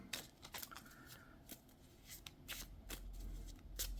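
Tarot cards being shuffled by hand, a series of quick papery riffles and flicks close by, with a few sharper snaps and quiet moments between.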